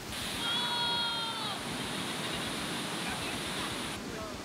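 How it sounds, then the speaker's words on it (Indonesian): The Timbulun waterfall gives a constant broad roar of falling water close by, steady for several seconds with a faint whistling tone over the top early on. "gue sampai di tujuan di air terjun Timbulun."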